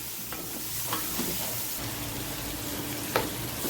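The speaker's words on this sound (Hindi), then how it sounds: "टमाटर नरम होने तक हम इसको फ्राई करेंगे" Chopped tomatoes fry in a pan for keema karela, a steady broadband sizzle running throughout with a few soft stirring scrapes and clicks, close and moderately loud, no talking.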